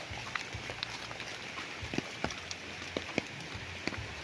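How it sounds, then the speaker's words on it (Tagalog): Rain falling outdoors on a flat farm lot beside a river in Nagcarlan, Laguna, giving a soft, continuous patter with scattered sharper drips and taps, fairly faint and close. "naulan."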